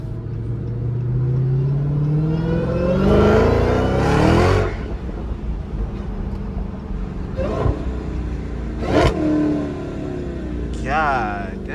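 A Dodge Hellcat with an aftermarket exhaust revs loudly, its engine note rising in a long climb and then dropping back. Sharper blips and rumbling follow, and someone talks over it.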